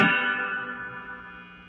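A single struck electric guitar chord, played through a reverb pedal, rings out bright and washed in reverb, its shimmering tail sustaining and slowly fading.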